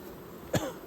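A beekeeper working his hives gives a single short, muffled cough from smoker smoke, close but quiet against a faint outdoor background.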